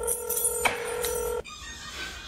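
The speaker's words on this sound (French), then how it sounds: "il y a le téléphone qui sonne" A telephone rings at home, a steady electronic ring tone that sounds for about a second and a half, then cuts off, leaving a quieter room.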